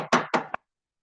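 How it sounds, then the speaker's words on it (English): Three sharp knocks on a wooden door, a quick uneven rap followed by silence, close and alone with no voices. "knock on the door"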